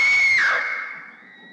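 One long, shrill scream of terror from a 1958 Hercules film rings out at a high, steady pitch, then bends downward and fades into a thin, lingering tone.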